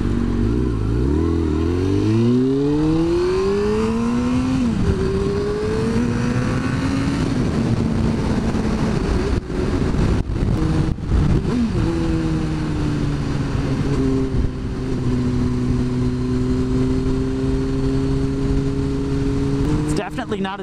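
A Suzuki GSX-R sport motorcycle engine drones loudly and close throughout a ride, rising in pitch through gears with short dips at shifts, wind rushing under it; someone talks over the engine.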